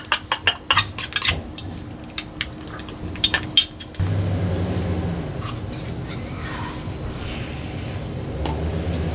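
Metal tool scraping and clinking against a container while wheel bearing grease is mixed for Prevost bus hubs; sharp irregular taps at first, then a steady thick churning stir, close and fairly loud.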